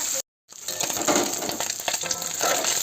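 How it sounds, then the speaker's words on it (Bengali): Small fish sizzling and frying in hot oil in a wok, a loud steady crackle with a short silent break near the start and no voices. "তেলটা গরম হয়ে গেছে, মাছগুলো ছেড়ে দেবো।"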